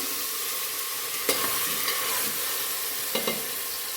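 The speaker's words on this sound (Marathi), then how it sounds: "चिकन आपले छान मस्त परतले बघा" Steady sizzling of chicken frying in a pan, with a few scraping stirs of a spatula against the metal, and no voices.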